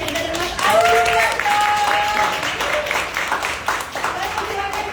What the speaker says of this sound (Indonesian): boleh tepuk tangan sekali untuk Mas Hendra dan Mas Alina.